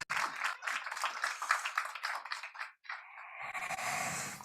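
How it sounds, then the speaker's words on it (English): Warm applause from an audience at a fleet safety awards event, many hands clapping steadily for a few seconds, briefly dipping, then resuming as a softer, more diffuse patter. "Give him a warm round of applause."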